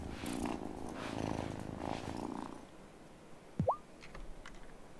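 A cat purrs in the video game Wylde Flowers, a soft rumbling purr for a couple of seconds that fades out, ending with a brief squeaky chirp, quiet and with no voice over it.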